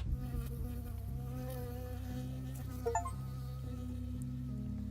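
A bee buzzes close by in the video game Firewatch, a loud, wavering insect drone that shifts in pitch as it moves, with a few short sharp effects partway through.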